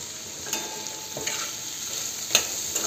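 Chopped onions frying in a pan, a steady soft sizzle with a few sharp scrapes and clinks of a spatula stirring them, close and clear with no voices.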